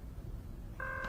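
Telephone tones come in near the end, a steady multi-pitched electronic ring or dial tone rising out of low room noise after a quiet stretch, loud and alone with no talk over it.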